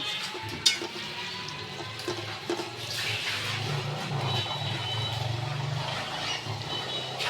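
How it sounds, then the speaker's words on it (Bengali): Water poured into a pan of fish curry, a rushing gush that builds after a few seconds and keeps flowing steadily, close by, following a sharp knock and light clatter at the start. "এখন জল দিয়ে দেবো"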